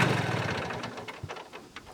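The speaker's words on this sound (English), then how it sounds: "we've got ourselves a little compact tractor" Small compact tractor engine idling on a farm, a steady low rumble with some knocking texture that fades gradually into quieter, uneven putters and brief bumps.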